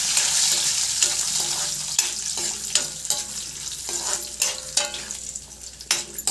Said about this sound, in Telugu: బాగా ఫ్రై చేసుకోండి